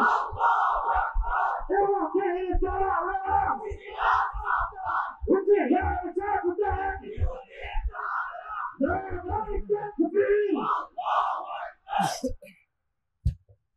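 A crowd at a religious gathering roars the takbir chant back in unison, a loud massed shout in repeated bursts with short gaps between calls.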